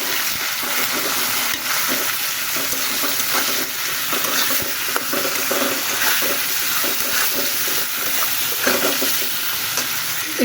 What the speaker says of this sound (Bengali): হলুদ দিয়ে দিলাম। নাড়াচাড়া করে নেবো।